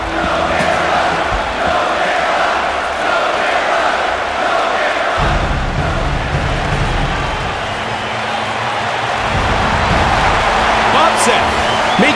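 A packed arena crowd in a mixed martial arts video game roars steadily as Bob Sapp walks out to face Minotauro Nogueira, a dense, continuous wall of cheering that holds for the whole stretch.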